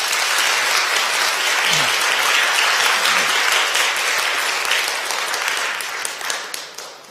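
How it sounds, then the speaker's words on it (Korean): A church congregation at a Sunday service gives sustained, dense applause to welcome a member, many hands clapping together and filling the room, loud and steady before tapering off at the end. "여러분들 인사드릴 때 따뜻한 환영의 박수 부탁드립니다"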